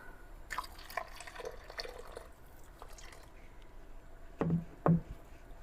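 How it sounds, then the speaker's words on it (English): Water is poured and dripped into a bowl of crumbly corn masa for tortilla dough, faint trickles at first, then two louder splashes close by. "Now we're going to add more water."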